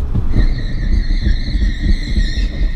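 A Ford car rumbles loudly up close through its gears on a driver-training exercise, engine note rising as it accelerates toward 30 mph, then easing under braking; steady road and engine noise throughout.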